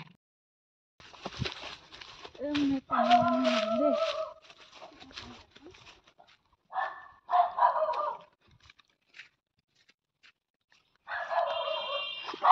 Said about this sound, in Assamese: কুকুৰে ভুকিছে চোন।